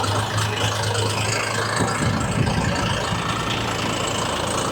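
A combine harvester's engine runs steadily as the machine is shifted to another field, a constant low drone with a faint hum throughout and no talk.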